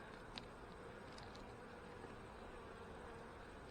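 Honey bees at an open hive during a fall inspection, brood frames exposed, fill the air with a faint, steady hum, with a few brief louder buzzes of bees passing close.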